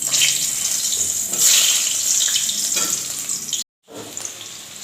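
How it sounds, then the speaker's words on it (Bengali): Potato pieces drop into hot mustard oil in a kadai and fry with a loud, close, bubbling hiss that swells and eases, cutting out briefly near the end before resuming. "তেল গরম হয়ে গেছে, এবার আমি আলু প্রথমে ভেজে নেব।"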